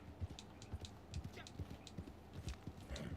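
Horse hooves in Red Dead Online clip-clop in a steady walking rhythm, moderately close, with faint snorting sounds and no talk.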